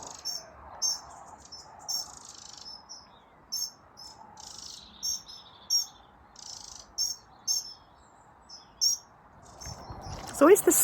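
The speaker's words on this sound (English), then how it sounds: "It's always the smallest birds that make the most amount of sound, isn't it?" Small birds sing in a garden, a series of bright, high chirping phrases repeating every second or so over a soft background hum, ending with a louder rustle.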